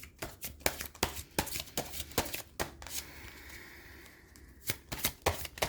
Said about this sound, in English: So, I've given the cards a good shuffle